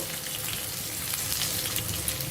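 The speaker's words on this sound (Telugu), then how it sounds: "పోపు దినుసులు వేగిపోయాయి పచ్చిమిరపకాయ ముక్కలు వేసేస్తున్నాము అలాగే ఉల్లిపాయ ముక్కలు" Green chilli and onion pieces fry in hot tempering oil with already-toasted spices for a potato kurma, giving a loud, dense, continuous crackling sizzle close by with no talking.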